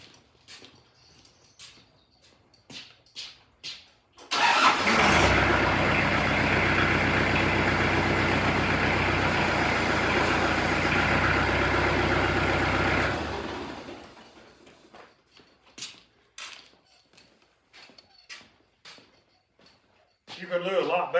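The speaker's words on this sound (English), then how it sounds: "Right now I need to raise the forks up on the tractor." A tractor engine roars loudly for about eight seconds while its forks are raised, a steady drone that starts and stops abruptly between sparse clanks and knocks.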